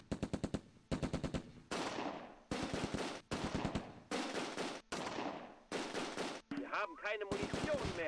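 An MG42 machine gun in the wartime strategy game Close Combat II fires loud, rapid bursts, several long rattling volleys separated by short pauses, with a whistling, warbling effect near the end.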